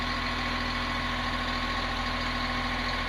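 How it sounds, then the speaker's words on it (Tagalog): A CAT 950H wheel loader's diesel engine idles high while warming up, a steady low drone with a constant hum and mild vibration that holds evenly throughout, with no talking. "Alam mo yan yung pag inandar mo, ang taas ng idle niya."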